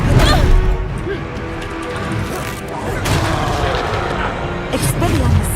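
Expelliarmus disarming spell cast in Hogwarts Legacy: a loud, dense run of booming crashes and sharp whacks, with a heavy burst at the start and fresh impacts near the end over a steady rumbling game backdrop.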